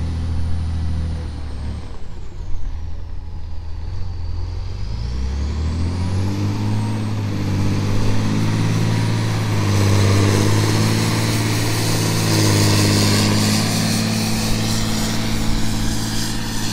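A road grader drives with its diesel engine droning loud and close, the pitch climbing steadily as it revs up and then holding a strong, throbbing tone, with no voices.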